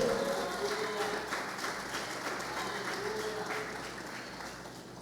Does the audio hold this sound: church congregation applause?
yes